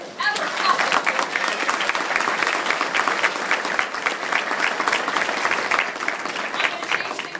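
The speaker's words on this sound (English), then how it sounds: "A round of applause for everybody who has ever helped us." A school audience at a fifth-grade moving-up ceremony breaks into sustained, even applause that fills the room from start to finish.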